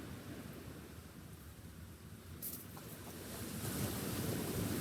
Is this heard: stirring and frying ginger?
no